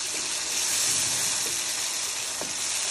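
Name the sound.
mutton karahi frying in a pan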